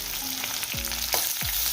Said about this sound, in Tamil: இப்போ தாளிக்கிறதுக்கு மட்டும் கொஞ்சமாக வெங்காயம்